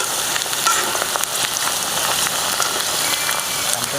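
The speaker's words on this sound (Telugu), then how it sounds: "ఆనియన్స్ ఆల్మోస్ట్ ఫ్రై అయిపోయినాయి, మంచిగా గోల్డ్ కలర్ వచ్చేసినాయి." Onions frying to golden brown in oil for chicken dum biryani, a dense, continuous crackling sizzle like rain on a surface, close and steady with small popping bursts.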